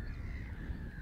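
Wild birds, including gray geese, common goldeneyes, black-headed gulls and swans, call over a steady low rumble of wind or water, with a sustained harsh crow-like cawing tone running throughout.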